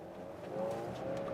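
A Volvo XC90 SUV accelerates hard at full throttle, its engine note rising steadily as a muffled drone heard from inside the cabin, moderately loud and without speech.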